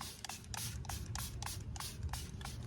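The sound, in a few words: spray bottle spraying liquid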